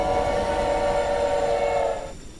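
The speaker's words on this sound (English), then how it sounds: "I have a freaking horn." A loud, sustained train horn sounds from the player's engine in the Choo-Choo Charles video game, a steady harmonic blast over low rumbling that holds for about two seconds before cutting off and trailing into a quieter hum.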